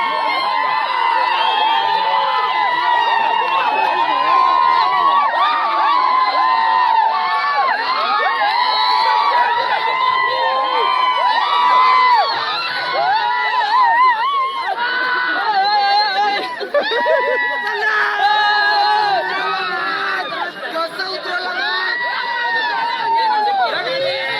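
A crowd celebrates a bullock cart race win at Bonivali ground, loud continuous cheering, whoops and children shouting, with excited chatter throughout and no lull.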